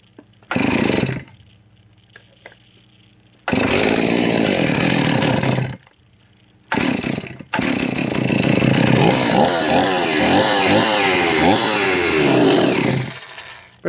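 Stihl 038 Magnum chainsaw under restoration running in loud close bursts, short revs separated by silent pauses, then a long sustained run with rising and falling revs and a rough, uneven idle.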